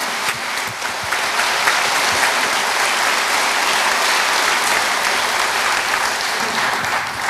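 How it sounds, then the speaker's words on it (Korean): An audience at a 2014 provincial governor's inauguration ceremony in Chungnam applauds for regional religious leaders, a dense, sustained burst of clapping from a large crowd, steady and loud for several seconds. "우리 지역의 종교 지도자분들께 큰 박수 부탁드리겠습니다"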